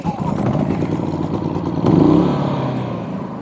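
A Craftsman 3300-watt gasoline portable inverter generator starts and runs, a loud steady engine drone that jumps in intensity partway through and then settles into an even hum.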